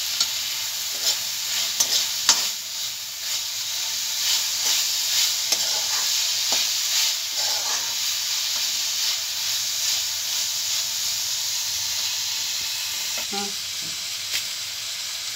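Chopped onions sizzle and fry in a pan for a wheat-leaf soup, with steady hiss and repeated scraping stirs throughout, close and continuous with no voices.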